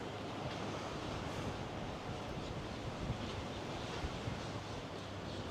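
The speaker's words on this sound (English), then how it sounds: "Really windy out here." Strong wind roars steadily across the microphone on the Saint Simons Island pier in Georgia, with surf washing underneath, a constant dense rush with no break.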